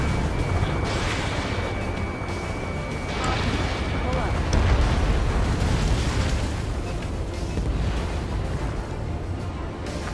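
Missile explosion in the Ace Combat 7 video game, a dense, rumbling blast that builds and rolls on for several seconds amid heavy game noise, with speech over it.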